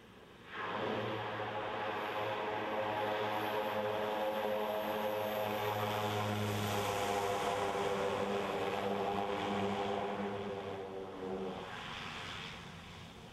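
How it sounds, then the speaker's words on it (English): A turbine Otter bush plane flies past, its steady propeller and turbine drone holding loud and continuous for most of the span before easing slightly near the end, with no talking. "And here is the ultimate bush plane,"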